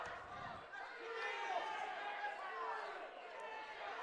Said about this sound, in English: A lot of yelling from the crowd on this one.